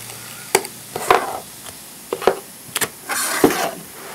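Duct tape pulled off the roll and cut while making a DIY purse: a few sharp clicks and snaps, then a longer rasping rip near the end, close and fairly loud with no talking.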